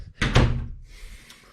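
A rear entry door on a park model tiny house swings shut with one solid, close thunk, followed by a faint rattle as it settles.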